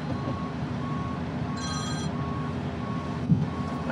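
A Mack truck's reversing alarm sounds as a brief high electronic beep over a steady low idling engine rumble, heard fairly close.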